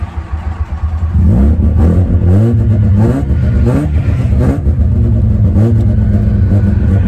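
A Mazda RX-7 FC rotary engine cranks, catches and starts after sitting unused for half a year, then revs up and down repeatedly with a throaty, buzzing idle between the revs, loud and close.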